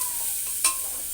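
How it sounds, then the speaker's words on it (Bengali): Onion, garlic, ginger and chili frying in a pan, a soft continuous sizzle with one brief stirring scrape, short and close. "এখানে আছে পেঁয়াজ, রসুন, আদা, লঙ্কা সব কিছু আমি দিয়ে দিয়েছি। এটা একটু ভাজা ভাজা করে নেই।"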